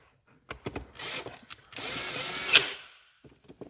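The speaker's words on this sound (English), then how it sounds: "we will get these last screws thrown in the center console here" A power drill drives the last screws into a Miata's center console. Short stuttering bursts lead into one longer, louder run, followed by quiet clicks.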